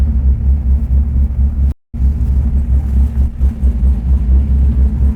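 A 500-horsepower C5 Corvette engine rumbles loud and steady, a deep continuous drone with wind buffeting and one brief cutout partway through.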